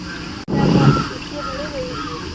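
Clean water flowing and splashing through a channel in an orchard at Malihabad, a loud burst of splashing that settles into a softer steady flow, with voices speaking over it.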